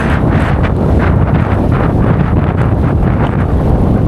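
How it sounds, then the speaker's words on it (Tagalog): Strong wind roars continuously across the microphone in a mangrove area, a loud, unbroken buffeting rush with no pauses. "Masyadong mahangin."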